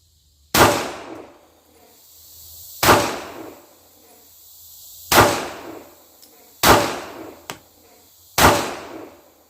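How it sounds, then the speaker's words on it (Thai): A Glock 43X pistol fires five sharp, loud shots, one roughly every two and a half seconds, each followed by a short ringing decay. The shots are fired two-handed and then one-handed. "ยิงสองมือแล้วก็ ยิงมือเดียวนะครับที่ลำตัวนะครับ"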